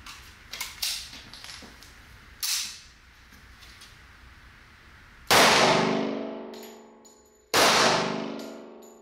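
45 caliber gold dot hollow point rounds, 200 grain +P and 230 grain, are fired at body armor on a range. Two loud metallic clangs ring out sharply and decay slowly, preceded by smaller clicks and knocks.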